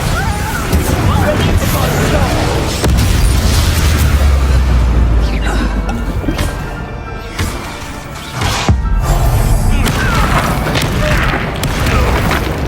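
Confringo and Bombarda spell blasts from the Hogwarts Legacy video game explode in loud, heavy booms with crashing debris, rolling on in near-continuous waves with a short lull midway, while voices shout over the din.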